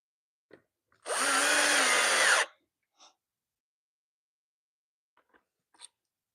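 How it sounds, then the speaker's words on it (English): A power drill drives screws into a building project in one steady whirring burst of about a second and a half. It is close and loud, with a few faint knocks and taps around it and no talk. "Put our screws in."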